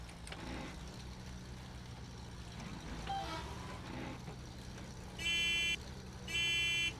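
Two loud electronic horn honks blare near the end, each about half a second, over low engine rumble and game noise in SnowRunner.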